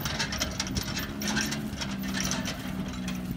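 A four-wheeler on a farm in March, its engine running as a steady low rumble with faint ticking over it, heard from close by without talk.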